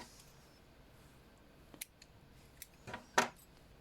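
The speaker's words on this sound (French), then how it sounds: "Et je coupe le fil." Scissors snip crochet yarn, giving a few faint, sharp metallic clicks and one brighter cut near the end against a quiet room.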